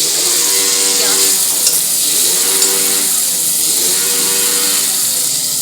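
A spoonful of white cumin seeds crackles and sputters in hot oil, giving a steady dense sizzle with no pauses and small pops scattered throughout.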